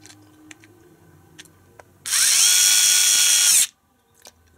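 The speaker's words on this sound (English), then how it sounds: "I've got a very fine thread on this screw here going into plastics. I don't want to actually strip the thread, so I'll use this screwdriver on the lowest setting." An INGCO cordless screwdriver on its lowest setting drives a fine-thread screw into plastic in a single burst of steady whirring that lasts about a second and a half, with quiet handling clicks before and after.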